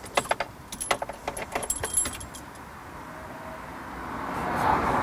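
Car ignition keys jangle at the ignition during pre-drive checks for a driving test: rapid, bright metallic jingles close by for about two seconds, then fading into a low, steady car hum that swells slightly.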